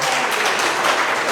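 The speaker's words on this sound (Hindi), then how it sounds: "एक बार खुद के लिए भी ताली बजा लो कि तुम भी अच्छे काम कर रहे हो।" A crowd at a Sai temple gathering in Melbourne claps for itself in a short, dense burst of applause from many hands.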